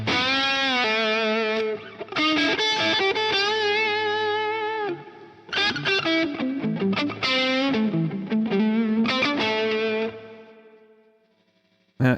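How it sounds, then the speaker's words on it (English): Electric guitar played through the GigFast Mobile amp app, chords and sustained notes with a washy, spring-style reverb tail ringing out, loud and continuous, then trailing off into near silence before a brief final hit. "It almost sounds like spring reverb."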